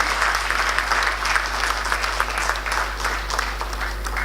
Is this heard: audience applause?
yes